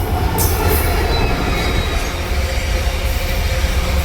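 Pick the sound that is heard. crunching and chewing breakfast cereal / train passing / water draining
train passing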